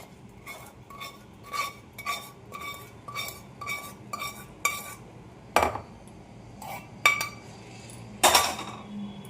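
A spoon stirs spice masala into homemade mango pickle, producing a regular series of bright metallic clinks and taps against the container, with a few louder knocks toward the end.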